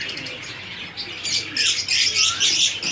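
Caged cockatiels call close by with bright, repeated chirps and squawks, quieter at first and then louder and busier in the second half.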